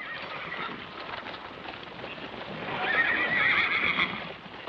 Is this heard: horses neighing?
yes